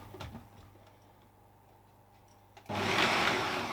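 A food processor starts up and blitzes chunks of bread into crumbs, a sudden loud steady whirring roar that kicks in after a quieter stretch and runs on continuously to the end.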